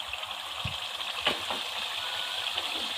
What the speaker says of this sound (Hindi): चिकन को हमने 7 से 8 मिनट तक भून लिया